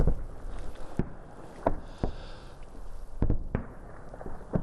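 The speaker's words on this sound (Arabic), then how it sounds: "وبين الحين والآخر نسمع أيضا إطلاق نار كثيف من أسلحة ثقيلة" Gunfire and heavy weapons fire sound during armed clashes in Quneitra on the Golan: distant, sharp irregular bangs and pops, several spaced a second or so apart, over a low outdoor rumble.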